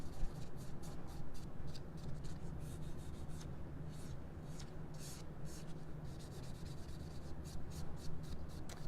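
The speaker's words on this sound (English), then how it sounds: "if you have a pretty good smooth surface, you can go right into" Rapid rubbing strokes of a buffer across an acrylic nail surface during a holiday nail design demo, a steady close scratchy friction with repeated short pulses and no talking.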